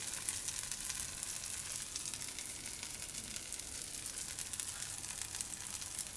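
Capsicum and onion sizzle steadily on a hot uttapam griddle set to low heat, a constant bright hiss of frying with no talking.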